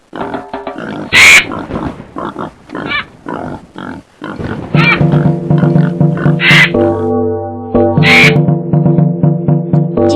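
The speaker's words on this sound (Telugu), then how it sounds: "జంతువుల గర్జనలు విన్న రాక్షసుడు" Cartoon jungle animals roar and cry out together in a loud, layered burst of calls mixed with shrill whistling tones and sustained tonal cries, with no talk over them.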